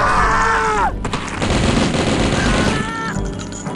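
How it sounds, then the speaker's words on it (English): In the DOS shooter Blood, a flare bursts and gunfire follows, a dense loud barrage of rapid shots and bangs with a whistling, descending tone at the start and another near the end. "So I'm going to use the flare burst on them. And we'll just gun down any survivors."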